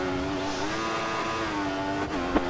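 A Formula 1 car engine in the F1 2014 racing game at the Sochi Russian Grand Prix holds a loud, steady, high-pitched whine while running on worn-out option tyres, with a brief dip and a small bump near the end.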